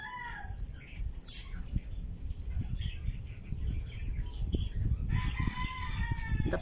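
Birds call and chatter nearby, with a rooster crowing and hens clucking over a busy, continuous background of bird noise.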